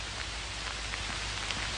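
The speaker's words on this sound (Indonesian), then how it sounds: "Hujan es batu." Hail falling outdoors in a steady, close patter of small pellets striking surfaces, with scattered sharper ticks over a continuous hiss and no talking.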